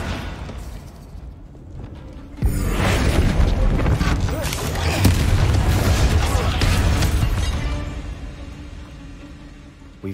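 In Hogwarts Legacy, the Incendio fire spell is cast with a sudden loud whoosh. A roaring, crackling rumble follows for several seconds before it slowly fades.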